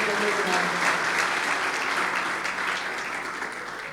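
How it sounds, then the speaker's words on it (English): A congregation claps their hands in praise during a Sunday wedding sermon at a Dubai church, a broad, steady burst of applause that slowly tapers off toward the end. "Clap your hands and give Him some praise in the house of the Lord."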